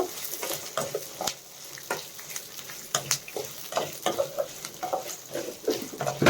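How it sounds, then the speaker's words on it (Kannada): Guntur red chilies fry in a pan for mango chutney with a light sizzle. Repeated stirring scrapes and taps run through it at close range, and no one speaks. "ಈಗ ಇದನ್ನೆಲ್ಲ ಹಾಕಿ ಸ್ವಲ್ಪ ಫ್ರೈ ಮಾಡ್ಕೊಳ್ಳೋಣ"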